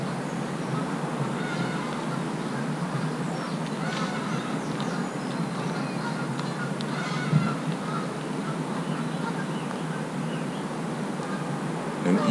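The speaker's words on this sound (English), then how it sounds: "I'm so inspired by all the beautiful birds here." Geese honking among other birds calling outdoors in nature, scattered calls over a steady bed of ambient outdoor noise, mostly distant with one brief nearer sound midway.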